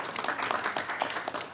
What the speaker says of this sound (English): Let's give her a big round of applause over here.